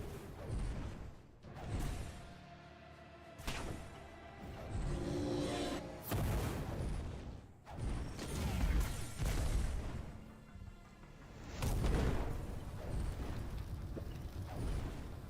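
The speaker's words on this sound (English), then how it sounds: "Too close to those explosions." Core Keeper game explosions boom and crash repeatedly, with dense rumbling bursts and debris-like clatter one after another throughout.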